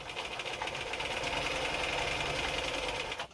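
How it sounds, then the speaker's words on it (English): A restored Bernina 830 Record sewing machine runs steadily at long stitch length, a close, continuous motor hum with a fast rhythmic knocking of the needle mechanism throughout, no voices. "You can see that now it's sewing much longer stitches."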